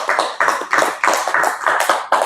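A church congregation clapping in a steady, strong rhythm, loud and close, with regular bursts of hands repeating for the whole stretch and no talking.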